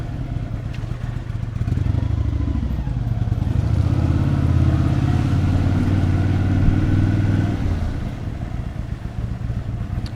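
A 1999 Kawasaki VN 800 C Drifter V-twin cruiser motorcycle runs with a deep, loping rumble up close, swelling slightly in the middle before easing back to a steady throb.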